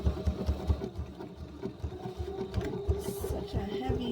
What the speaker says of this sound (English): I'm just going to stitch the handle in place.